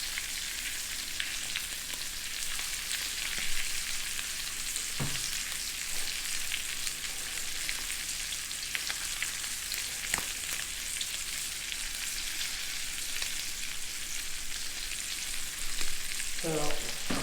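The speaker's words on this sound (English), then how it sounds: "So I just flipped the trout." Rainbow trout fillets fry in a hot pan with a strong, continuous close-up sizzle and crackle, plus a few faint utensil taps and scrapes along the way.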